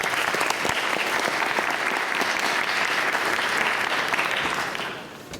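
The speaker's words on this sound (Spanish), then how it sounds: "Lo recibimos con un fuerte aplauso, por favor." An audience at a conference lecture claps in a strong, dense round of applause that holds evenly for several seconds before fading out near the end.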